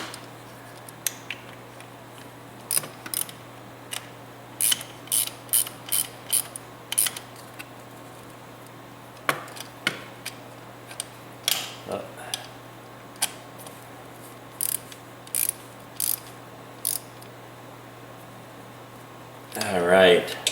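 Bolts being snugged up on a Honda Rancher 350 ATV, a string of short metallic ratchet clicks and tool taps in irregular bursts over a steady low hum, fairly close, with a louder clatter at the end.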